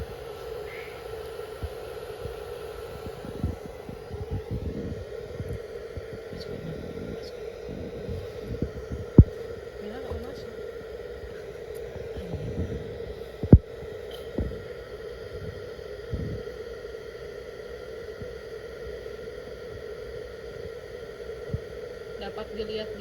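A hair dryer blows hot air on a low setting about 20 cm above a cardboard box, making a steady, continuous motor hum with occasional small clicks and knocks.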